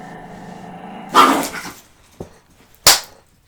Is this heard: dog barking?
yes